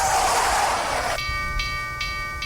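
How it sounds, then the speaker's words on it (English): Train passing with a steady rumbling roll under a high tonal horn or whistle, fairly distant, with faint periodic clicks. "I could hear the train in the distance now"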